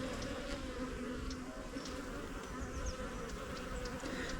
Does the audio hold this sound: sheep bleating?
no